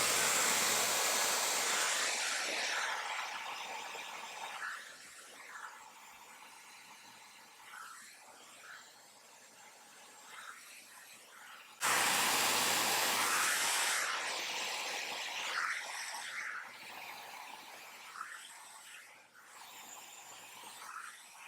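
An FHI Versus Spear hair dryer with a diffuser attachment blows a loud, steady rushing whoosh while drying a curly wig, cutting out briefly partway through and then restarting just as strong.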